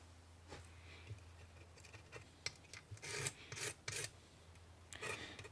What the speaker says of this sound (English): We're going to clean up all this gasket surface.